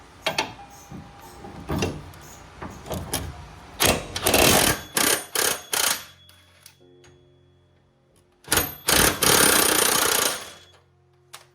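A 17mm bolt on a Honda Acty engine is worked loose with a power tool in several loud rattling bursts separated by pauses, close by.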